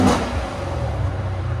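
Deep, muted engine rumble from a 2015 Lexus RC F 5.0L V8 rev with Valvetronics exhaust valves shut, a short burst at the start easing into a steady low drone, close up and without voices.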